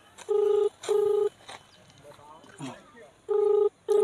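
Several electronic ringback tones of an unanswered phone call sound in regular pairs, loud and clear, with brief muffled voices and rustling between them, at a boundary-wall construction site with bricks piled nearby.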